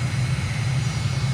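Aircraft engine running during a rolling takeoff from runway 26 at Stockholm Arlanda, heard as a steady, loud, low drone with a constant pulsing hum throughout.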